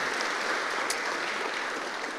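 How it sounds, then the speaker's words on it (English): A church audience claps together in steady, even applause filling the room, sustained throughout with no speech over it. "How about we clap for that"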